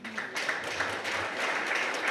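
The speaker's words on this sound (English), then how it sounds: "Colleagues, please give a applause for Anita." Applause at an IT company's staff event as Anita is called on stage. A dense, fairly loud wash of clapping from a crowd that holds steady throughout with no voices over it.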